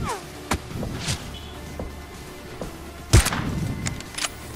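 Sniper headshot in the mobile shooter PUBG Payload 2.0, a few sharp gunshot cracks among quieter thumps, with one loud close report near the end over faint game ambience.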